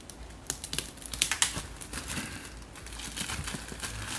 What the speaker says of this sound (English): Again, another cellophane wrapper. Oh, this one's tight.